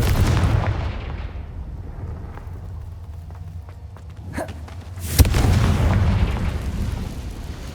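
Confringo explosive spell blasts from the Hogwarts Legacy video game: a rumbling low background broken by a sharp booming burst about midway and a louder blast near the end, each followed by a sustained crackling roar.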